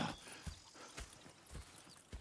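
Quiet clip-clop of horse hooves in Red Dead Redemption, several uneven strikes on a hard surface amid soft background noise.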